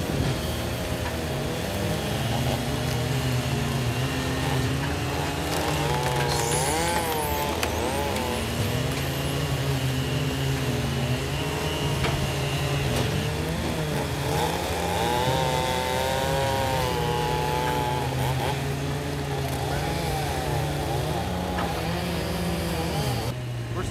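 Several chainsaws bucking firewood at a busy outdoor firewood-processing gathering drone and rev continuously, their engine pitch rising and falling as they cut, with faint voices in the background.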